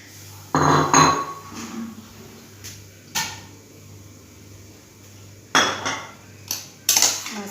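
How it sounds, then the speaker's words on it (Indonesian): A metal pressure cooker pot is handled in a home kitchen while pork bone soup is prepared Balinese style. Several sharp clanks and clatters ring out close by in separate bursts, with quieter knocks between them. "kita presto dengan menggunakan panci presto"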